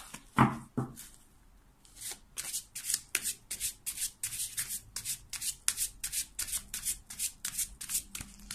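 Tarot cards being shuffled by hand: a few soft handling rustles, then a steady run of quick, crisp riffling bursts in an even rhythm, close and clear with no talking.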